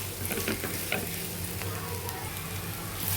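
Ivy gourd curry with turmeric and chili powder fries and is stirred in a pan, a soft continuous sizzle broken by faint scraping strokes, steady and close but quiet.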